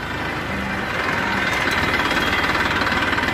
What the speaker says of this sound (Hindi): ये देखिए ट्रैक्टर और उसका आनंद लेते हुए।